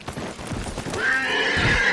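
A horse in Red Dead Redemption 2 lets out a loud, close neigh that rises and holds for about a second, with a few hoof clops just before it.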